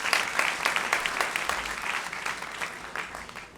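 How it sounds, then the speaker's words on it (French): An audience at a Montreal event applauds with dense, lively clapping, individual claps popping out of a steady wash of hands that carries on for several seconds. "que je vous demande d'applaudir tous"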